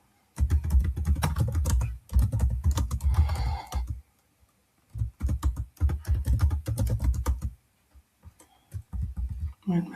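Bursts of rapid clacking on a computer keyboard, close and fairly loud, come in three separate runs with quiet pauses between them.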